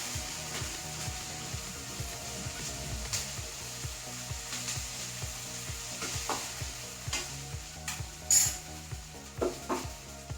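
Ivy gourd thoran with grated coconut sizzles in a pan while a spatula stirs and taps in a quick, regular rhythm of scrapes, close and moderately loud, with a few sharper clinks toward the end.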